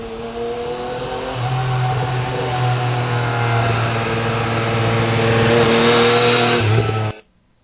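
Yamaha MT-09 motorcycle riding on a road out toward Faison Lakes in fall weather: a loud, steady engine drone with wind rush holds for about seven seconds before cutting off abruptly.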